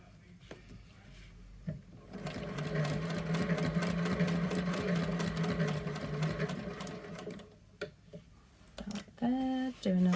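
A vintage sewing machine stitches a fabric machine cover, running steadily for about five seconds after brief handling noises, then stopping; a few short clicks and a faint voice follow near the end.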